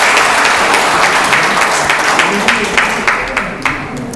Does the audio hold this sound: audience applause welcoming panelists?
yes